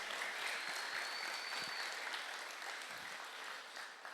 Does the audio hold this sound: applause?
yes